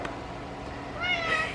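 A house cat meows in a kitchen while a meal is being cooked, giving a short, clear two-part meow near the end over a low room hum.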